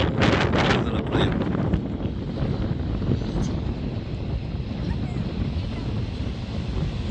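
Strong wind buffeting the microphone on the Portuguese coast near a beach, a continuous loud roar with gusty swells and no pauses.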